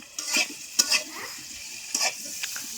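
Eggs and potatoes fry in a pan in a home kitchen, a quiet sizzle broken by a few sharp scraping and stirring clinks spaced through the moment, close by with no talk.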